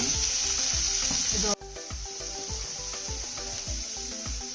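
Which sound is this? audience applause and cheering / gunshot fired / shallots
shallots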